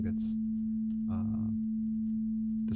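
A sine wave in Max/MSP, pushed past full scale so it clips and distorts, holds as a steady, continuous low tone, with a few brief brighter bursts over it.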